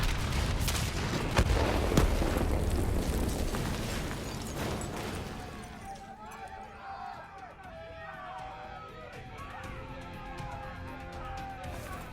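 Explosion detonating in the Call of Duty Black Ops 3 campaign: a loud, broadband blast and rumble over the first six seconds, fading into quieter game ambience with scattered effects and voices.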